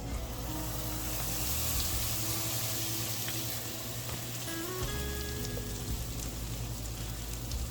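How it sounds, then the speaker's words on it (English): Cornbread batter hits a hot cast iron skillet and sizzles with a steady, soft crackling hiss, faint and continuous, with no talk. "I think that sizzle is so satisfying."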